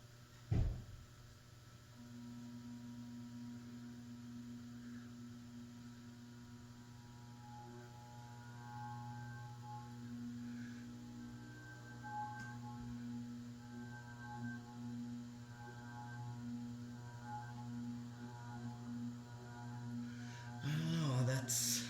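Envirofan Gold Line 160F-7 industrial ceiling fan with metal blades running steadily, a constant low hum with faint rhythmic whirring, continuous and moderately quiet, ending with a brief clatter.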